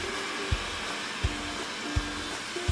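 Xiaomi Mi robot vacuum cleaner running indoors, a steady close motor whine with a sharp bump or click roughly every three-quarters of a second, no talk.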